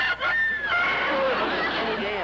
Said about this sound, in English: Oh, it is a rooster.